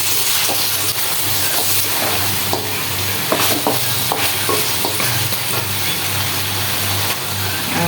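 Beef frying down in a pot with spices, a constant crackling sizzle and hiss with intermittent clanks of a spoon scraping and stirring, close and clear, no voices.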